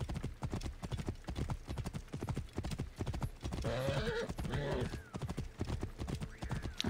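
Horses gallop in the video game Assassin's Creed Origins, with rapid, continuous hoofbeats throughout and a whinny partway through over game ambience.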